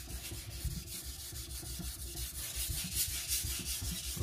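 A knife blade is stroked steadily across a sharpening stone as a burr forms, giving a continuous close gritty rasping with a quick repeated rhythm and no talking.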